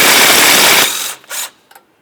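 A 12mm ratchet wrench works a stuck brake line bolt on a 2015-2019 Subaru Outback, giving a loud, close, dense buzzing ratchet burst for under a second, then two short fainter clicks.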